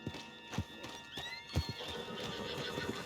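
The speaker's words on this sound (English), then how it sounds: "Put Strauss on the back of John's horse" Horse in Red Dead Redemption 2 whinnies and neighs while its hooves clop in a few uneven, near steps, all short and without talk.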